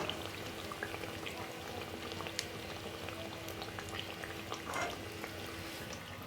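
Steady, faint sizzling and crackling of eggplant slices frying in hot oil, with soft popping spatters throughout and no voices.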